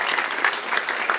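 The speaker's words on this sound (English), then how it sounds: "Huge round of applause to Asset Angel." Audience applause at a hackathon closing ceremony, a dense continuous wash of many hands clapping at steady loudness for a short stretch, with no voices on top.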